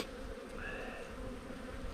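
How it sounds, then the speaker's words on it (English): Honey bees crowd a hive frame, making a soft, continuous buzzing hum close by with a faint higher drone rising briefly in the middle. No one speaks. "We got a lot of bees on here."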